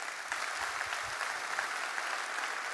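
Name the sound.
audience applause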